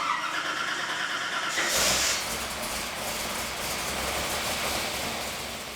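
A 460-cubic-inch Ford Windsor small-block with twin 1000 CFM throttle bodies fires up on a dyno: a loud rising burst about a third of the way in, then a steady, close, broadband roar that fades slightly toward the end.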